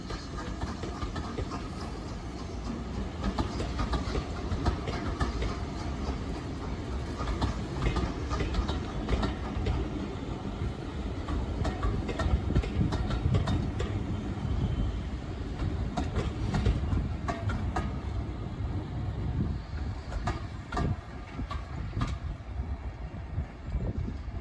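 Heritage steam locomotive on the Severn Valley Railway hauling its train in reverse, a steady rumble with clickety-clack of wagon wheels over rail joints, continuous and fairly close throughout.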